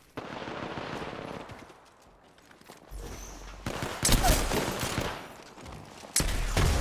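Gunfire in the video game Apex Legends, with bursts of automatic shots and a fusillade of cracks building louder in the second half over a busy game soundscape.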